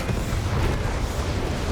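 Artillery shell explosions in the video game Company of Heroes 3, a loud continuous rumbling barrage of deep booms blending into one another with no pause, and no talking over it.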